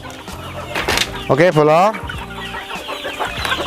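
Elba laying hens clucking in a coop: repeated close clucks and short cackles, with a brief voice speaking over the birds.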